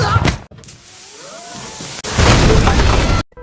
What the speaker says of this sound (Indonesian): tembakan senapan mengenai karung berisi bubuk mesiu dan membuat meledakan